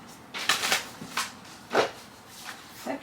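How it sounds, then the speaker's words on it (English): Tarot cards are shuffled by hand in several quick riffling bursts and soft slaps, close and fairly quiet, with brief pauses between them. "I need to do a quick shuffle"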